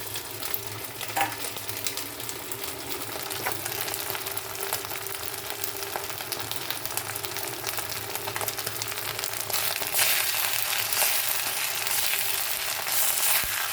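Spice paste sautés in a pan, a steady close sizzle and crackle with occasional stirring scrapes, growing slightly louder toward the end.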